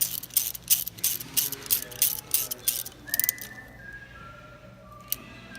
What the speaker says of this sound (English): now we're just tightening down the plate the remaining fasteners